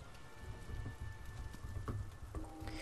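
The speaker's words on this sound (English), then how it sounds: "now the heavy rain here" Heavy rain falls in the video game Tomb Raider Definitive Edition, a dense, steady patter and hiss that stays fairly quiet and even throughout, with a few faint thuds and tones underneath.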